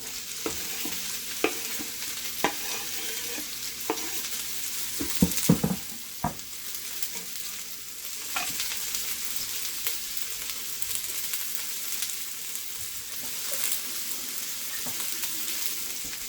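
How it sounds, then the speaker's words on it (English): Onions and green onions sizzle steadily in a hot pan for French onion soup, a continuous frying hiss broken by occasional sharp clicks and clatter of a utensil stirring them, close and fairly loud with no talking. "In with the onions. I want to brown them a bit."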